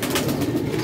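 Breeder-sized Teddy pigeons coo in a steady, low throaty murmur close by, a continuous soft bubbling with no voices over it.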